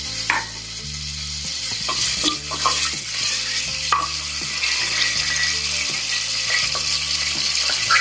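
Whole spices, including bay leaf, cinnamon, cardamom and cloves, sizzling in hot oil for mutton biryani, a steady close crackle with stirring scrapes and occasional utensil knocks.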